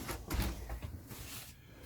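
The door of a 2019 Viking Epic Series 2108ST pop-up folding trailer slides along its top track, giving soft, fairly quiet scraping and rustling over about two seconds, with no one talking.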